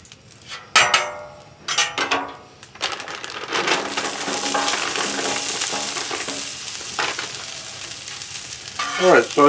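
Tater tots hit hot oil in a pan after a few clattering knocks, then a loud, steady, close sizzle of frying that carries on, ending with more handling clatter.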